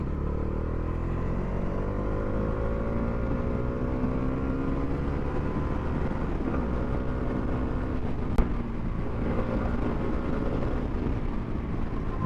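A Bajaj Dominar 400 motorcycle, modified, accelerates with a steady, loud engine drone whose pitch climbs and sweeps across the whole stretch, with no talk over it.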